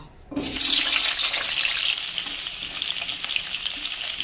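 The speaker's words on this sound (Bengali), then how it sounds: "তেল গরম হয়ে গেছে, এবার আলুটা ভেজে নেব।" Potatoes hitting hot oil for a Bengali aloo korma: a sudden loud burst of frying after a brief quiet start, settling into a continuous dense sizzle, close and alone without speech.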